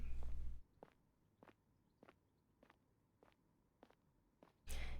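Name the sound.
footsteps in a yuri visual novel video game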